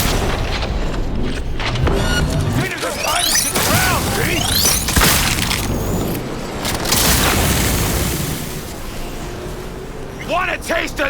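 Grenade blasts from Cyberpunk 2077 boom through a chaotic firefight, with heavy thuds, crashes and whooshing debris layered under shouted voices, the din staying loud and dense throughout.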